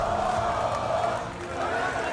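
A studio audience at the Survivor All Star 2024 finale cheers and roars for the finalists. It is a dense, steady wall of crowd noise lasting throughout, with a slight dip midway before swelling again.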